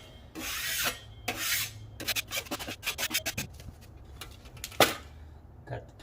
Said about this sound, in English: Again, just scrape off the ridges.